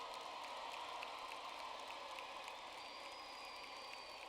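Applause from the audience at a graduation ceremony, a steady, even wash of many hands clapping that is fairly distant and soft, with a faint high tone running beneath it.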